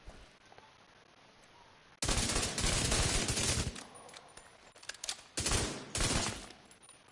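Bursts of automatic gunfire in The Division 2 on PS5, a loud sustained volley after two quiet seconds, then two more short rapid bursts separated by brief pauses.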